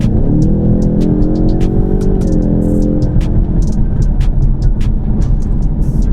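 A Ford Mustang with a COBB Stage 1 tune accelerates at full throttle, its loud engine droning and rising in pitch from inside the cabin, with faint clicks and rattles over the roar.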